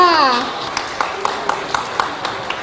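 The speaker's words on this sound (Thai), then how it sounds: "ขอเสียงปรบมือด้วยค่ะ" A few slow, sparse hand claps follow a voice at a cooking demonstration, spaced at a steady rhythm and fairly faint.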